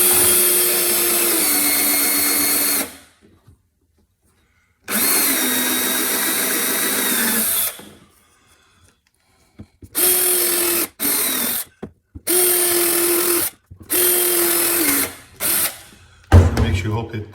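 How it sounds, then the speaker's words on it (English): A power drill bores a hole into the plastic body of a Ryobi 48V lithium zero-turn mower, running in several sustained bursts of steady whine with short pauses between, loud and close. "So I'm going to dive right in here and drill a hole."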